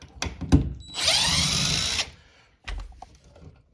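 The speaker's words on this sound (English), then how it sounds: "get yourself a little drill and take out your outlet" A power drill whirs steadily for about a second, rising in pitch as it spins while removing electrical outlet screws, with a few handling clunks and taps before and after.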